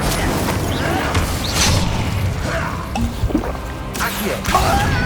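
A fire spell is cast in the Hogwarts Legacy video game amid busy combat effects: whooshes, thumps and crackling bursts that come in dense, overlapping waves at steady loudness.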